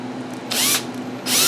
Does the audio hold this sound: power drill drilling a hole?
yes